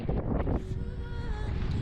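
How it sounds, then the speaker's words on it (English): Strong wind buffets the microphone on a beach during island hopping in the Philippines, a loud low rumble of gusts with a faint tonal whistle partway through and no voices. "unfortunately it is quite windy"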